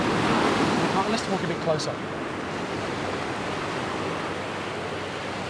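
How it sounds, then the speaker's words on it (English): Surf breaking about a metre from where people stand on a beach where mullet swim, a steady broad wash of waves with wind across the microphone, with someone speaking briefly early on. "When the waves come up, you can see through the waves."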